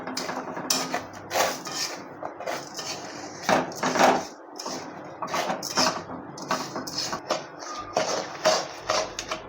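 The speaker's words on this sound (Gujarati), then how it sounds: "આ રીતના ખાંડમાંથી કેરેમલ રિલીઝ થવા માંડ્યું છે તો હવે આપણે એને હલાવી લઈશું" A utensil stirs sugar caramel in a pan, giving close, irregular scraping and clattering knocks against metal with short pauses between strokes. There is no talking over it.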